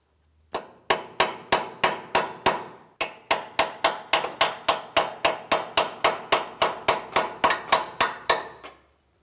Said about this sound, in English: Once we have it broken free, we can continue on with a hammer and punch as necessary.